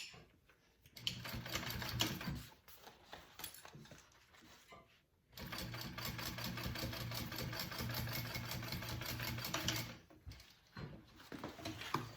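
A sewing machine top stitches fabric bag pieces in two bursts of rapid, even needle chatter, the second longer, with brief quiet pauses between and no talking.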